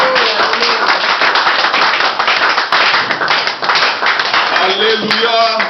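Church congregation clapping in acclamation during a worship service, a dense continuous roar of many hands close by, with singing and voices running under it throughout.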